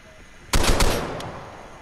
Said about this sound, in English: Oh, he took a shot.